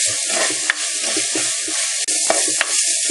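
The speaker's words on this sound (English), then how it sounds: "the onions are browning nicely" Red onions frying and browning in a pan for a Sri Lankan tripe curry, a steady close sizzle with a few sharp stirring scrapes and clicks, no voices.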